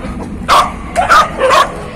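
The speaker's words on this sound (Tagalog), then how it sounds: "Kaya lang maraming aso." A dog barks and yips several times in quick bursts, fairly close, with short pauses between the calls, in Binakayan, Cavite, Philippines.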